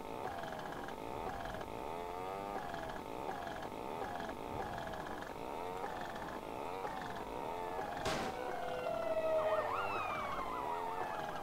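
An ambulance siren in the driving game SeeMTA wails steadily in rising and falling sweeps over a continuous game soundscape, moderately loud, with no talking.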